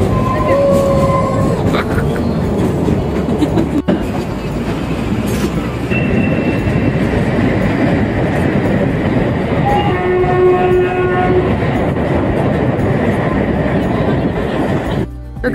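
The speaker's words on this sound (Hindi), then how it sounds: "मतलब ट्रेन ने ब्रेक लिया है, ट्रेन फिर से रुकी है।" The Shimla toy train rolls steadily with continuous rumbling and clatter, its horn sounding in several tonal blasts near the start and again later, loud and close throughout.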